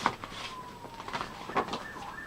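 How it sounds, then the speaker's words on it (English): Sirens passing outside, faint and distant with a thin wavering wail over low room noise, no one speaking. "here we got sirens coming, Bane."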